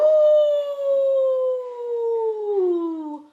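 A voice imitates a howling wind for a children's story: one long, loud, wavering "ooh" that slowly slides downward in pitch and holds steady for about three seconds before cutting off.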